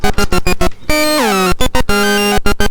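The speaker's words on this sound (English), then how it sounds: "So now we hear truly different patterns for VCO1 and VCO2." Two bright oscillators of an Analogue Solutions Cranial Saw analog synthesizer trade rapid, gated notes in separate patterns, one held tone gliding downward between the clipped pulses.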